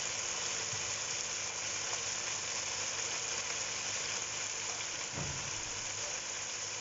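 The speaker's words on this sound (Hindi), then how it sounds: "1 मिनट हो चुका है इसे फ्राई करते हुए" Food frying in a pan for Singaporean rice with chicken and noodles, a soft, continuous sizzle with a brief stir partway through.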